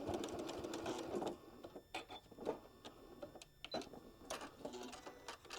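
A sewing machine runs a steady stitching burst, then stops and starts in short bursts while back tacking across a fabric flap on a scissor pouch. Close and fairly quiet, with no talking.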